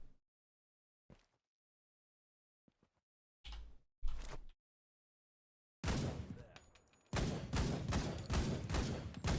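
Gunfire from dual-wielded Desert Eagle pistols in a video game under development: scattered faint clicks, then separate loud close shots, building to rapid repeated volleys of heavy pistol bursts at the end.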